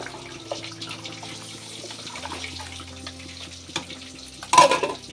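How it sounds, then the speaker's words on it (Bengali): Fish frying in a pan in a home kitchen, a steady low sizzle that runs throughout with faint clatter and a brief louder burst near the end. "এদিকে দেখো মাছ ভাজা হয়ে গেল। তো এখন বাকি আছে যে বাকিগুলো ভেজে নেব।"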